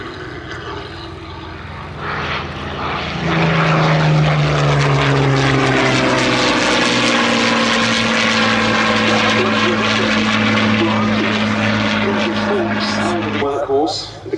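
A Merlin-engined Curtiss P-40F Warhawk flies at the Duxford Battle of Britain Airshow 2021, its propeller engine rising into a loud, steady, close drone and holding there while a commentator talks over it.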